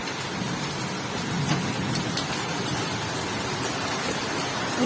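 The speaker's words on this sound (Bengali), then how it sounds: "বাবা এখানে তো বৃষ্টির ছাট আসছে" Steady heavy rain falling outdoors, a dense hiss of drops hitting surfaces nearby with wind-driven spray, continuous and fairly loud with no speech.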